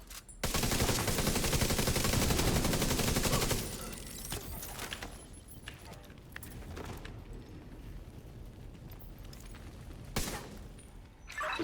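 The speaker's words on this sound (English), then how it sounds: "Was that gunfire?" Video game gunfire crackles in a dense, loud burst of rapid automatic shots for several seconds, then falls to scattered single shots and quieter mechanical sounds.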